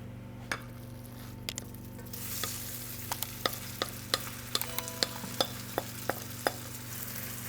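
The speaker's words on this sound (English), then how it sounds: "You can hear that sizzle," Matzo brei sizzles in hot avocado oil in a pan, with a steady frying hiss and sharp utensil clicks and scrapes against the pan as it is stirred, close and moderately quiet.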